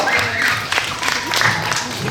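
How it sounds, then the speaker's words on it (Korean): An audience of students claps loudly at a school magic show for a disability awareness day event. A dense, continuous burst of applause fills the room, with voices mixed in. "박수 한번 크게 드릴게요"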